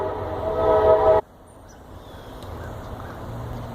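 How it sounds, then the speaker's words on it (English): A train passing close by, its horn blaring loudly for about a second before cutting off, after which the train's low rolling rumble continues faintly. "I'm going to press pause for just a second while the train rolls by."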